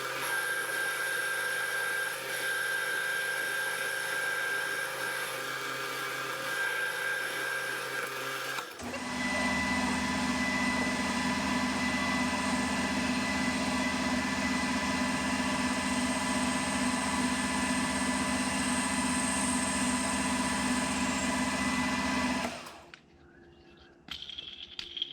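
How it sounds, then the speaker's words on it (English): A metal lathe parts off a workpiece after chamfering, its steady motor whine joined by a louder, denser cutting drone midway that runs evenly for several seconds and then cuts out abruptly near the end. "and I can just part it off"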